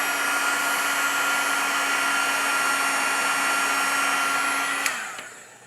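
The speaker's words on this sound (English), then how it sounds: "So we're going to heat emboss this." A heat gun blows hot air over a stamped watercolor card to heat emboss it, a steady loud whooshing hum that holds for about five seconds before switching off and fading.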